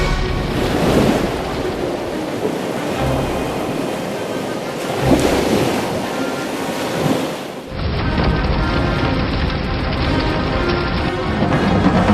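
Loud sea waves and surf roll and crash in an animated fable, a continuous broad wash of ocean noise with wind, swelling at moments and shifting abruptly in tone partway through, with no talking.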